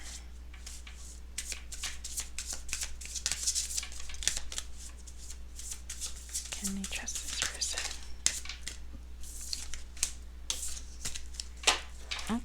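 Tarot cards are shuffled by hand in a quiet room, with repeated crisp riffling bursts and slaps of the deck, close and fairly soft, while a voice speaks briefly.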